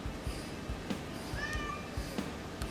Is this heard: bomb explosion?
no